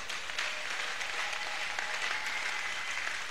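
Congregation applauding during a church service, a steady dense wash of clapping from many hands throughout, fairly distant and even in level.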